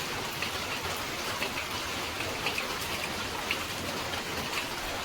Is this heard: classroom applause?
no